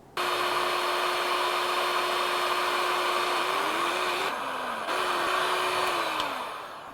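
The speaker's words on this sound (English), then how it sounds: "a hot air gun over here" A hot air gun blows steadily while heat-shrinking rubber tubing over twine on a survival knife kit, a loud close whooshing roar with a slight pitch wobble as it is moved, then tapering off.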